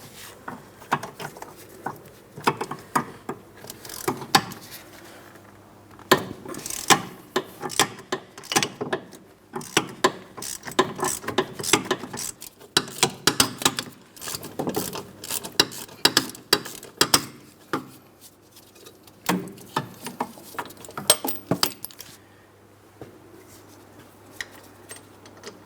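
A ratchet wrench working loose an 18 mm hub mounting bolt on a 2003–2007 Cadillac CTS rear wheel bearing assembly, close and clear, with rapid clicking bursts repeating in steady strokes and short pauses between.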